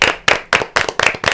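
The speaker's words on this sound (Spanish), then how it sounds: "recibimos con un fuerte aplauso" A few people nearby clap in a quick, regular rhythm to welcome a guest at a political gathering, with about five or six sharp, distinct bursts in just over a second.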